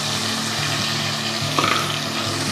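Masala for a no-onion, no-garlic vegetable kurma fries in a pan with a dense, loud sizzle, and a brief stirring scrape comes partway through.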